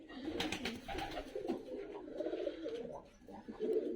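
Pigeons cooing in a loft, several close rolling coos overlapping one another, with faint human voices low in the background.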